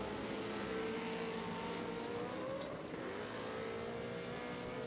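Pro 4 off-road race trucks at the 2019 Crandon World Championship run wide open, a steady, distant engine roar with shifting pitch holding continuously throughout.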